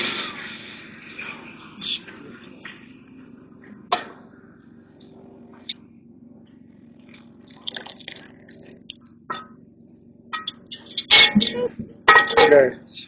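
A spoon stirs and scrapes cheese sauce in a pot for cowboy pasta, with sparse clinks and scrapes that grow into a louder burst of clattering near the end, beside quiet pauses.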